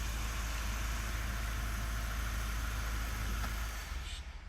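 A Mazda 3 engine idles steadily during a brake fault diagnosis, a constant low hum and drone with a slight dip near the end, no talking.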